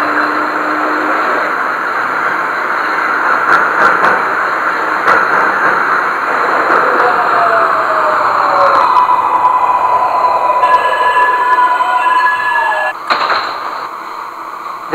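A Brooklyn-bound 9 local train running in the OpenBVE train simulator game: a steady, continuous rumble with whining motor tones that rise and fall, fairly loud throughout, with no voices.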